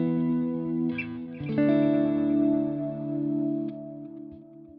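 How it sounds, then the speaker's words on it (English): An electric guitar run through a Halo-style swelling delay effect on a Quad Cortex modeler, sustained chords blooming and thickening after each pick attack, with long repeats washing into a smooth, reverb-like tail. "there's a swelling effect to it"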